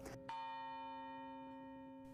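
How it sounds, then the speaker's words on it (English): A single strike of the campus bell at Millersville rings out, clear and sustained with a long humming decay, fairly faint, heard alone. "that bell still rings each day as a kind of symbolic recognition of that time."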